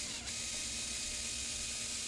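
Steady, quiet clicking of a ratchet working loose 10mm bolts on a Honda Civic engine during a VTEC solenoid gasket job, with a continuous mechanical rasp and no talking.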